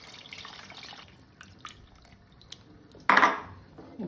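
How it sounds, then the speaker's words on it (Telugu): Water is poured onto tamarind for a Telugu fish curry, heard as a short, close splashing rush near the end. Before it come quieter kitchen clinks and faint drips, with no talk. "చింతపండులో కొంచెం వాటర్ వేసుకొని మళ్ళీ ఇంకొకసారి"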